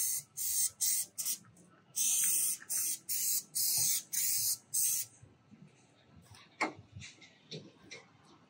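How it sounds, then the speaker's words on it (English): Eight short hissing bursts of an aerosol can spraying cleaning foam onto a phenolic plywood trailer floor, fairly close, followed by a few soft clicks and light handling noises. "We're going to use the spray foam today because it's much easier."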